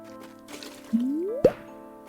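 A bucket fills with water in A Short Hike: a quick rising, pitch-climbing gurgle leads into a bright liquid plop, all short, clean and close, with soft game background underneath.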